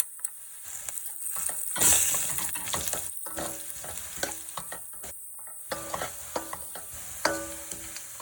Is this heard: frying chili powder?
yes